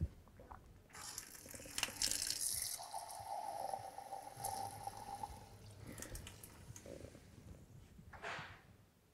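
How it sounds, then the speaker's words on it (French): Sparkling water runs from a kitchen tap in a steady hissing, fizzing stream for several seconds, then cuts off, followed by a few brief splashes. "vous avez de l'eau pétillante directement à votre robinet"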